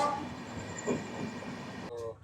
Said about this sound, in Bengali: ট্রেন তো ভালোই স্পিডে চলছে